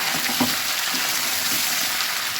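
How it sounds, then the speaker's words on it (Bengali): Meat frying in a pan with fried onion, whole garam masala and green chillies for chicken kosha, giving a steady, close sizzle with a few soft stirring clicks throughout. "ভাজা পেঁয়াজের সঙ্গে গোটা গরম মশলা দিয়ে মাংসটা খুব সুন্দর করে ভেজে নেব"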